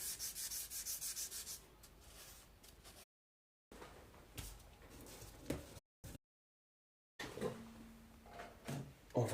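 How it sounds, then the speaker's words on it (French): Hand sanding of wood and brass with 400-grit sandpaper, heard as close, repeated scratchy rubbing strokes in bursts with brief gaps, plus a few knocks and handling noises. "Je vais passer mon grain 400 de cette manière."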